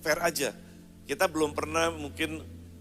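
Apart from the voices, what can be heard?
No distinct noise like a dog, phone or traffic.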